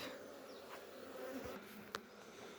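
Honey bees buzzing faintly around a beehive during a beekeeping inspection, a soft continuous drone with occasional nearer passes and a small click.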